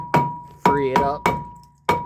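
A stuck brake rotor is hammered off the front hub of a 2012 Jeep Compass 2.4 L during a steering knuckle replacement. Four hard, ringing metallic blows land close by at a steady, slightly uneven pace.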